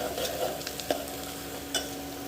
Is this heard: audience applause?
no